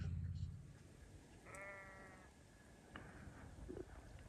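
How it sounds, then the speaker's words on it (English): A single sheep gives a short, wavering bleat from across a hillside at Malin Head in Ireland. It is faint against steady wind and outdoor ambience, followed by a couple of quieter sounds. "Can't believe we're just here listening to the sheep."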